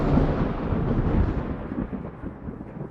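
Thunder after a lightning strike, a broad continuous rumble that rolls on for a few seconds, loudest at the start and slowly fading, with no voices.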